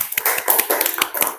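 A small classroom group claps for the forest group after its presentation. The claps are sparse and uneven, with close, sharp individual hand strikes over about a second and a half.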